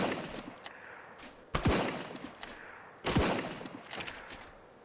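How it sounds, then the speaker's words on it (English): Two sharp gunshot bursts from a modded gun in the survival game ARK, fired as fast as possible, about 1.5 seconds apart, each one loud with a decaying tail over a busy game background. "That's me shooting as quick as I can."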